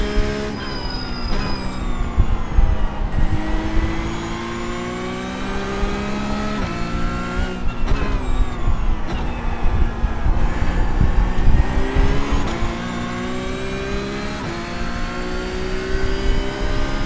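GT3 race cars accelerating around a circuit, loud layered engine notes rising and falling continuously as several cars pass and rev through the gears, with brief tire noise and no talk.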